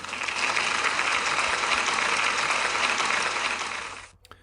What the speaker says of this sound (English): Can we give Zoe a big round of applause